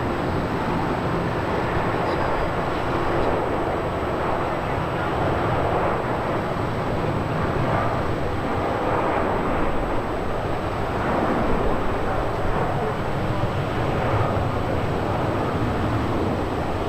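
A LATAM airliner departing Melbourne Airport gives off a steady, loud, broad jet roar that holds almost unchanged for the whole stretch, with no voices over it.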